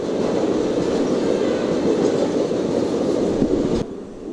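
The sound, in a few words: train passing by in dense fog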